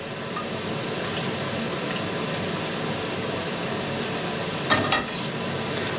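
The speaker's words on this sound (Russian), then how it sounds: "Грибочки обжаривались 5 минут, друзья." Mushrooms fry in a pan with a steady, loud, close sizzle and a brief scraping stir near the end, no voices.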